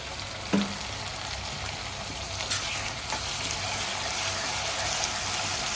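Ginger garlic paste sizzling in plenty of hot oil with softened onions in a pan while making prawn gongura pulao, a steady close frying hiss with an occasional stir, no talking.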